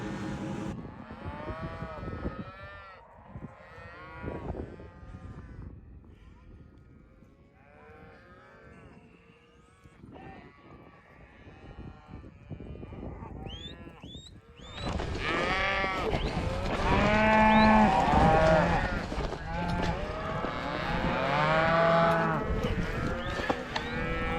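Cattle on a ranch mooing repeatedly, several overlapping low calls from nearby animals, quieter at first and then a louder, denser chorus of bellowing in the second half.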